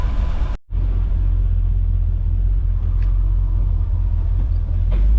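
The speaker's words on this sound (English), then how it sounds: "Going for a ride around the block here." A 1979 GMC G25 Vandura van on the road, its steady low engine rumble and road noise continuing close and loud throughout, broken only by a brief dip near the start.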